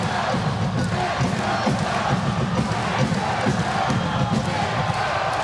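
A crowd at a women's college volleyball match between Hawaii and Long Beach State roars and cheers continuously, a dense, steady wall of noise with shouts rising within it.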